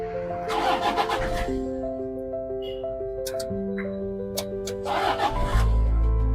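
A car engine cranks and starts near the end, after an ECM repair at a Kerala workshop, preceded by steady tonal whines and brief faint voices in the background.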